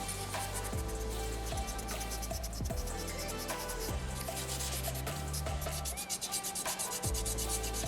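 Sandpaper rubs back and forth over a small soapstone butterfly carving in quick, continuous scratchy strokes, close and fairly loud, with a brief pause near the end.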